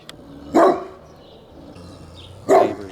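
A neighbor's dog barks twice outdoors, two loud single woofs spaced about two seconds apart, with quiet ambient noise between them.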